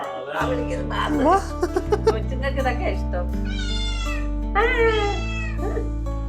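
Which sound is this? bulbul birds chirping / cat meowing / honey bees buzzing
cat meowing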